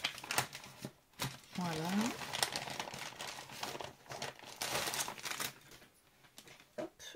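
Paper envelope contents being unwrapped by hand, with close crinkling, rustling and tearing bursts that come and go, while someone speaks briefly in French.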